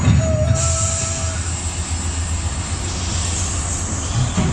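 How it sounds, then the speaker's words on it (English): A steam train comes to a stop with a steady heavy rumble and a brief high wheel squeal early on, loud and close, no voices. "we need the sound of a stopping steam train"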